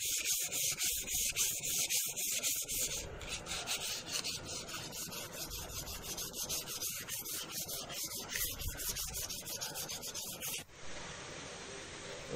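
Plywood is hand sanded with sandpaper pressed down firmly, giving close, continuous rhythmic rasping strokes that change pace partway and stop near the end.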